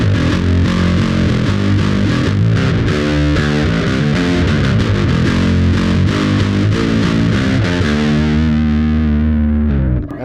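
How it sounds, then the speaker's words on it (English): A Fender Mike Kerr Jaguar bass is picked near the bridge through overdrive, giving a loud, gritty, distorted riff of rapid repeated notes and sustained chords that rings out and fades at the end. "especially when we put on that that overdrive"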